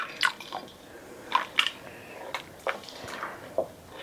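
White distilled vinegar poured into hot milk on a stovetop makes a few faint drips, splashes and liquid squishes, scattered and close, then fading.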